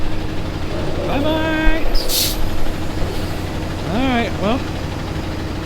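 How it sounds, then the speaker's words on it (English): A Jeep with a dead battery is left idling while being loaded and hauled away, its engine a steady low rumble under nearby talk, with a brief burst of louder noise in the middle. "We're leaving it idling while they take it over there just because the battery's dead"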